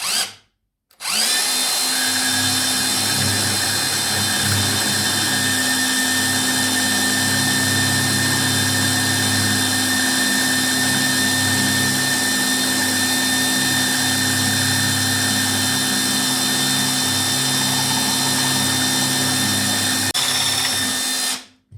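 Steady, continuous power drill boring into concrete through a KWB drilling guide, loud and close, running unbroken for about twenty seconds with no talk.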